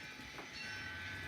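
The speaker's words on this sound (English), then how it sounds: "there's a train coming through here on this main line, which is my coal train" Model coal train running along a main line on a layout, a brief steady rumble and rolling noise with no talk.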